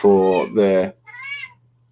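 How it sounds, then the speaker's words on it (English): A house cat meows twice in quick succession, loud and close, followed by a softer, higher trailing meow, with no other sounds. "my cat's shouting at me."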